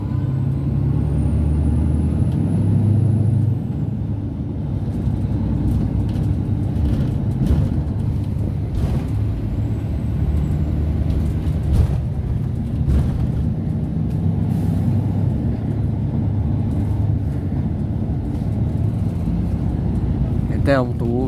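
A bus pulling out of the Colima bus station gives a low, steady engine rumble and road noise throughout, heard from inside, with a faint air-brake hiss and occasional voices.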